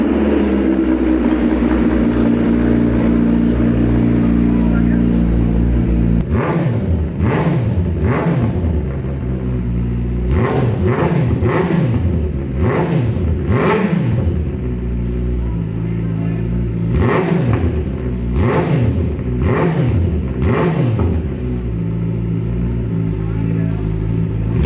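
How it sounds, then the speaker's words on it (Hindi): A Kawasaki ZX-10R superbike's engine is revved hard in a long series of sharp, rising and falling throttle blips over a steady loud rumble, with people talking in the background. "10R की आवाज़ सुनाते हैं इनको।"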